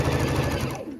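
A domestic sewing machine with automatic thread cutter runs fast, stitching a quarter-inch quilt seam joining nine-patch pieces, a loud close whirring chatter that slows and stops near the end.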